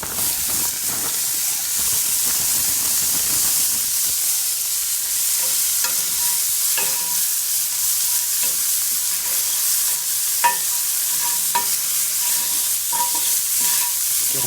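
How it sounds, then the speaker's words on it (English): Vegetables fry and sizzle in a browning pan for pork fried rice, a steady broadband hiss broken by scattered clinks and scrapes as they are stirred, close and continuous with no talking. "Let's try to shake these vegetables in."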